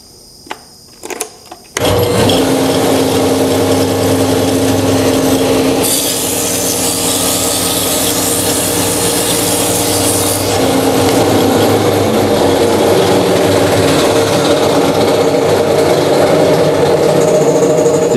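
A wood planer starts with a few clicks, then runs loudly and steadily as a close, continuous motor whine and rumble. The pitch shifts briefly mid-run during a shop safety demonstration.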